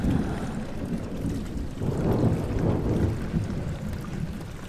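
Water rushes steadily in Amnesia: The Dark Descent, a dense, low, roaring wash that holds at an even loudness throughout.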